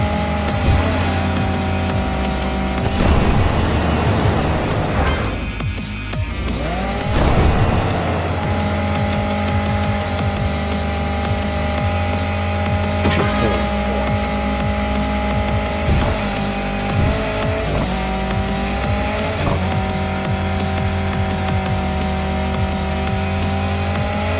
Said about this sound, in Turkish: Bastım son gazı yiyorum